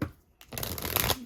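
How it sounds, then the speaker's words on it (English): Tarot cards are shuffled by hand in a quick riffling burst after a brief quiet pause, close and crisp with no talking. "Shuffle these cards."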